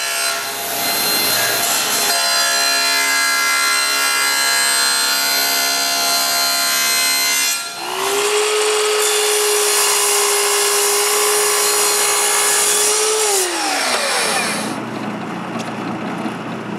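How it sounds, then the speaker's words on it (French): A power saw cuts through wood in a workshop with a loud, harsh, continuous whine. The blade changes pitch between two long passes, then winds down near the end, and no one speaks. "Maintenant, je peux couper le bois qui manque pour les buter."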